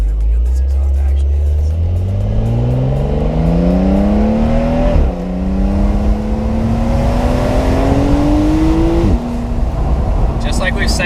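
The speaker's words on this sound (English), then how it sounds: "top down, and it just accentuates how good this exhaust actually" A 2020 Porsche 911 Carrera 4S Cabriolet exhaust roars loudly with the top down as the engine accelerates, its pitch climbing through two gear changes, heard close and open to the air.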